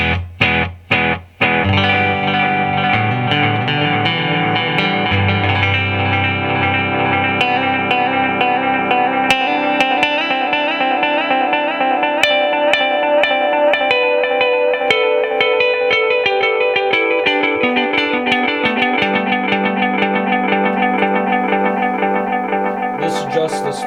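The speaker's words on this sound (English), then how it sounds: "So here's just what the tape echo sounds like." A Korg SE-300 tape echo unit repeats a sustained, layered musical tone for about twenty seconds after a few sharp opening notes, with a steady level and smeared, shimmering trails.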